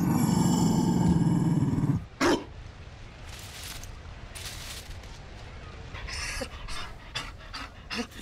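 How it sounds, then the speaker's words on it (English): A Mabari dog from the video game Dragon Age: Inquisition pants loudly and rhythmically up close for about two seconds, followed by quieter rustling, footsteps and scattered thuds. "You found a dog."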